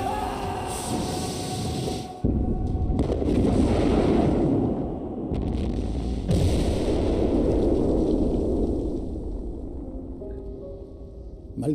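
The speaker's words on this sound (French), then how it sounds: "Fouillez les gars, ça va exploser." Explosions and artillery in the World War I video game Valiant Hearts: a sharp blast strikes, then heavy rolling booms and rumbling debris follow, with another hit midway before fading into a low roar.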